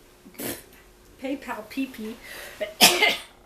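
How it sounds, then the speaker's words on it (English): A single sharp cough bursts out near the end, preceded by an earlier smaller cough and some close, indistinct vocal sounds in between. "Gotta get the coughing out."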